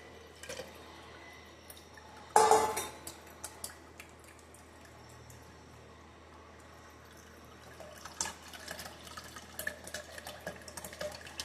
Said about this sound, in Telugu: ఇప్పుడు ఈ బౌల్లో కూడా కొంచెం వాటర్ పోసానండి.